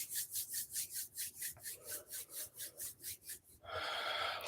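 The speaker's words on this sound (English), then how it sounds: "rubbing the palms," Palms rubbed briskly together in a warm-up, a close, breathy swishing in a steady back-and-forth rhythm of about fifteen strokes, then a continuous rougher friction at the end, with no talking.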